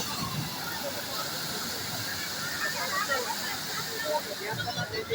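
Big sea waves roll and crash on Cox's Bazar beach, a continuous loud rushing surge of surf with no clear pauses, close by and filling the whole scene.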